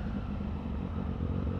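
A Triumph Street Triple R motorcycle with a Zard exhaust rumbles in a steady, dense, throaty drone, close and continuous throughout.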